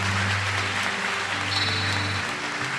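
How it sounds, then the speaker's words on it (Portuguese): Steady broadband clapping from a church congregation applauding during a sermon, sustained throughout, with a low hum and faint tonal music underneath. "Vamos aplaudir a palavra de Deus."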